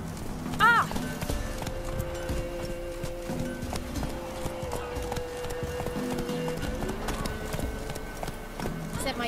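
Horse hoofbeats in The Witcher 3, a steady clip-clop of a mount moving along under game ambience, with a brief whinny-like cry near the start and voices talking throughout.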